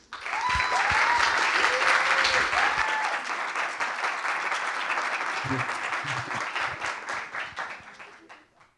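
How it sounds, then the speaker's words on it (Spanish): Audience at a university panel event on media and polarization gives strong applause for the guests, dense clapping with a few voices over it early on, then fading out near the end. "Por favor, un fuerte aplauso para ellos."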